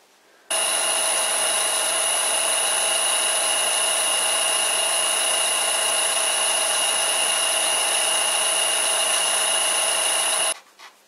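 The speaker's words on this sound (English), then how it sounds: "Cutting in reverse sure didn't help for the surface finish." A metal lathe cuts in reverse on an old lathe project driven through a new VFD, making a loud, steady whine with strong high tones that starts abruptly and stops abruptly about ten seconds later.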